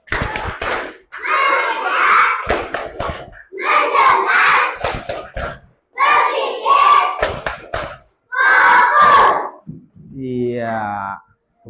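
Children clap together in quick rhythmic bursts, several rounds separated by short pauses, loud and close, ending with a brief sung or chanted voice.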